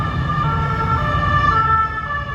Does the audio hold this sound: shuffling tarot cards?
no